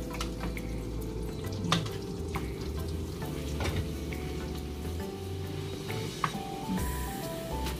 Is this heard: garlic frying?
yes